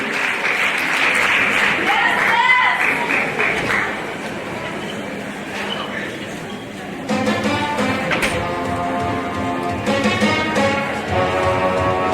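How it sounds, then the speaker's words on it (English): Loud sustained applause fills a high school auditorium at the Mr Hoosac pageant for a contestant couple, dense clapping with cheers and whistles rolling on throughout, swelling again toward the end. "Big round of applause for our couple of round two."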